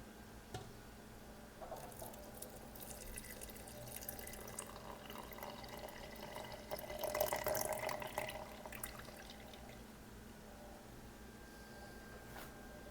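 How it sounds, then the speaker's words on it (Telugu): Salt water is poured into a jar over cabbage for sauerkraut, a soft, steady liquid trickle and splash with a low hum behind it. The pour swells briefly in the middle and no one speaks. "ఈ సాల్ట్ వాటర్ ఉన్నాయి కదా, ఇవి ఈ జార్లోకి మనం ట్రాన్స్ఫర్ చేసేసుకోవాలి."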